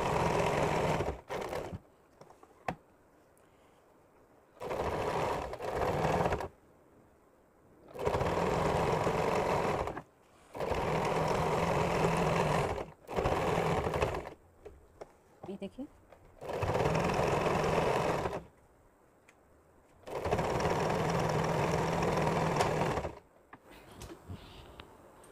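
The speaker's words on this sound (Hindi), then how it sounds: "ये देखिए पूरी किनारे के बराबर से लेकर पूरे पर हमने सिलाई लगानी है।" A sewing machine stitching around the edges of a nighty runs in several bursts of a few seconds each, separated by pauses, close and clear with occasional quiet talk in between.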